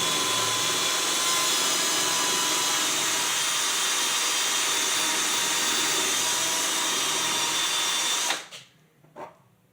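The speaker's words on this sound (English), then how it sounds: "and then just drill it in." A power drill boring into a light-duty swivel trap whines at high speed, loud and close, for about eight seconds, then stops, followed by a couple of brief clanks.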